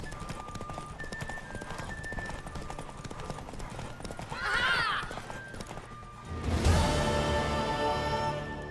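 Horse hooves clip-clop steadily in The Witcher 3, a mare driven hard in a race, with a brief whinny midway and a louder burst of game sound near the end; no voices.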